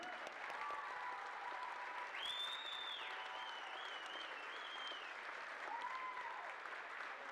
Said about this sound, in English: Ladies and gentlemen, let's have a nice round of applause for the all-alternate team.